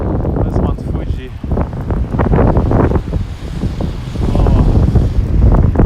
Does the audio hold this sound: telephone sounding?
no